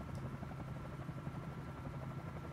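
A Bell 47J helicopter in Microsoft Flight Simulator, its steady rotor and piston engine drone holding a constant low throb, even and unbroken throughout, with no voices.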